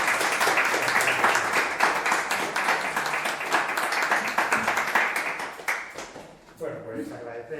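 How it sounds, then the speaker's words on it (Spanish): An audience at a book presentation breaks into loud, sustained applause, a dense crackle of many hands clapping that stays strong for several seconds before thinning out, while a voice begins speaking as it fades. "Así que os pido un fuerte aplauso para él."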